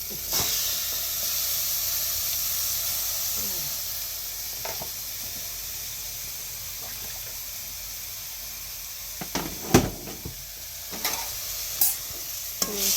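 Ginger, garlic and tomato sautéing in a pan give off a steady, hissing sizzle for a long stretch, with scattered spatula scrapes and clinks growing more frequent toward the end.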